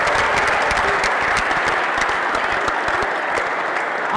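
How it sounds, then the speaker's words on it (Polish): A group in a workshop on team games applauds the girls, with steady, dense clapping from many hands that holds at an even loudness throughout. "let's make a great clap for the girls. Brawo dla Was! Brawo dla dziewczyn!"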